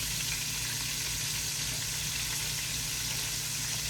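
Eight double-battered chicken pieces fry in a pan, giving a steady, close, loud sizzle and crackle that holds evenly throughout with no talking.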